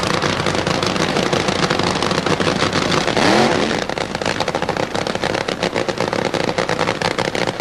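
Funny car drag race with Bob Pickett driving Mickey Thompson's Grand Am Pontiac at the Gator Nationals in 1976: a loud, dense, crackling engine roar that fills the whole clip and dips slightly as the car passes.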